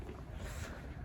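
Wind buffeting a phone microphone outdoors, a steady low rumbling roar with no talk over it.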